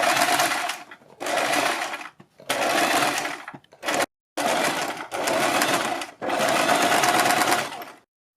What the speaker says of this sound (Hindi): बीच में सिलाई लगाने के बाद हम बुकरम के बिल्कुल बराबर में पूरे गले के ऊपर सिलाई लगाएंगे।